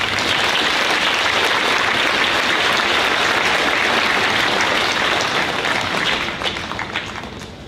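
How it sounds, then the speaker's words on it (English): A large audience at a fall commencement ceremony breaks into loud, continuous applause that holds steady for several seconds before tapering off near the end. "help me give all of the people here in this room that supported you a"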